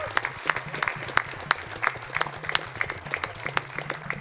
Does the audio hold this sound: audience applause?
yes